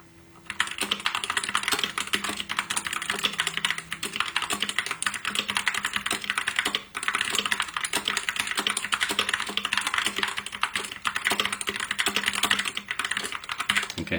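Steady, fast keystrokes on a NACODEX K680T 60% mechanical keyboard fitted with red switches, a close, continuous clatter of light clicks running almost without pause.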